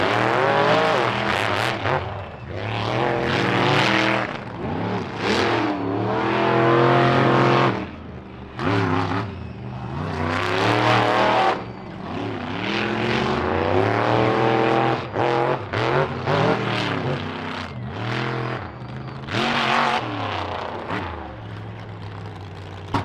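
Monster trucks racing at an All Star Monster Trucks event in Maryville, loud roaring engines that rise and fall as the trucks rev and charge, sustained and powerful with brief dips between surges.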